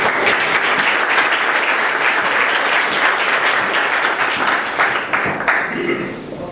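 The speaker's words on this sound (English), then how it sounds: "please give a warm round of applause for both Fred and Adam" Warm applause from a startup event audience as two presenters come up, a loud, dense wash of clapping that holds steady and then thins out toward the end as a voice begins.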